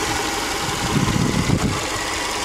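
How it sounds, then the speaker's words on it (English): A rebuilt Subaru EJ25 engine idles with a steady low rumble and light vibration, heard up close and alone, with a slight uneven pulse midway. "definitely no knocking issues. And it's idling pretty good."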